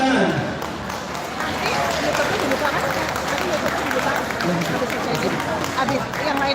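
An audience applauding at a medal ceremony after a basketball final, steady dense clapping with crowd murmur filling the hall throughout.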